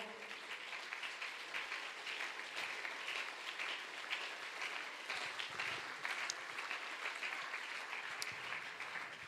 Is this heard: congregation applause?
yes